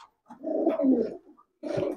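Pakistani pedigree pigeons in a loft give two soft, throaty coos, one long and one shorter after a brief pause, close by and clear with no talking.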